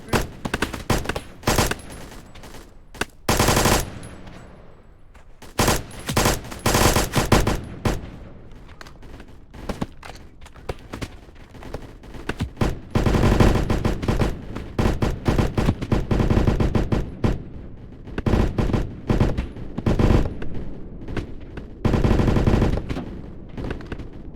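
Gunfire crackles in the video game Blackhawk Rescue Mission 5, with dense bursts of automatic fire and single shots, loud and close, with short lulls between volleys.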